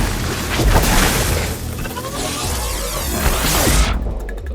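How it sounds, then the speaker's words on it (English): Flashbang grenades go off in the video game Horizon Zero Dawn, producing loud, heavy booms with rushing blasts that fill several seconds before cutting off abruptly. "Ooh, flashbangs."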